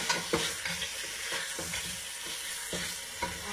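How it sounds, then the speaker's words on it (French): Pork shoulder pieces browning in hot oil in a pan sizzle steadily, with soft clicks and scrapes of turning or stirring scattered through the steady hiss. "on fait revenir la viande hein, dans l'huile chaude, un petit peu, de chaque côté"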